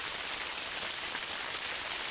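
Steady, dense rain pours down outdoors at night on a riverbank during a burbot fishing trip, a continuous close hiss of drops striking surfaces with no pauses.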